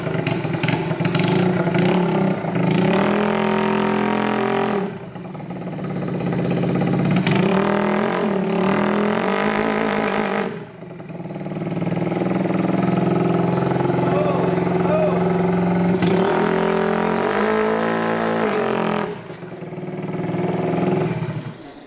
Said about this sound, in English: Let's try to do a burnout.